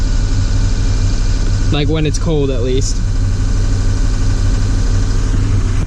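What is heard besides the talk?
2007 Ford E450 6.0 diesel ambulance engine at high idle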